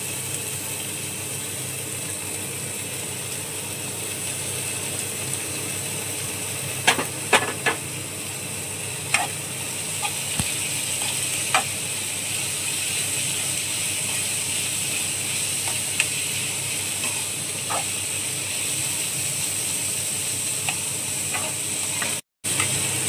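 Chopped capsicum, cabbage and onion stir-frying in a pan, a steady close sizzle with scattered clicks and scrapes of the spatula against the pan throughout.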